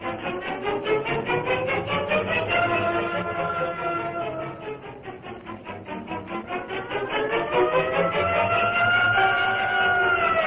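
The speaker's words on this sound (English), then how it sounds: "Call an ambulance, Miss Case. This man's going to the hospital" A wailing ambulance siren effect from an old-time radio drama rises and falls in long sweeping cycles, loud and steady for about ten seconds with no voices over it.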